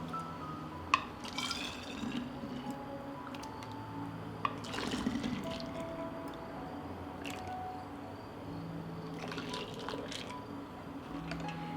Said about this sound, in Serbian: sok je kuvao 2 minuta i sipaću ga u sterilisane flaše